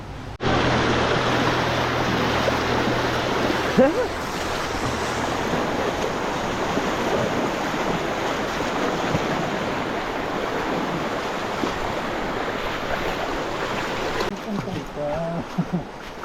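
A river with a strong current rushes loudly and steadily near a forest trail at Puray Falls, a dense continuous roar of flowing water, with people speaking over it.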